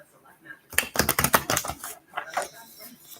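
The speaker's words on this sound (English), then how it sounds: "I shuffle." Tarot cards are shuffled during a live reading: a quick, crisp burst of riffling clatter for about a second, close and fairly loud, followed by a softer voice talking.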